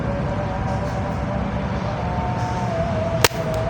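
A homemade Canon 747 long-barrel cannon fires once during a 40-metre target test, a single sharp, loud bang near the end after several seconds of steady outdoor background noise.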